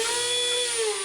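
Screw gun driving a screw while installing an RV window, a brief high-pitched motor whine that dips slightly in pitch as the clutch engages, close and sustained for about a second.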